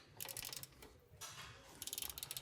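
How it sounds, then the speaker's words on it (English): A wrench works a seized bolt loose on the rear control arm of a Mercedes E63 AMG, giving quick bursts of ratcheting clicks, a brief pause and a harsher scrape, then another run of clicks, close and quiet. "I'll use a wrench to give myself some extra leverage here and just go gently"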